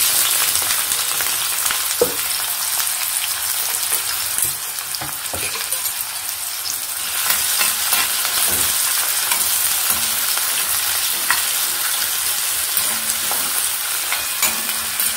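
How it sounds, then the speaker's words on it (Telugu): Onions and green chillies frying in hot oil, a steady close sizzle running throughout with occasional stirring clicks and scrapes, no voices. "ఆయిల్ హీట్ అయిపోయింది. ఇప్పుడు ఉల్లిపాయలు పచ్చిమిరపకాయలు వేసుకుందాం."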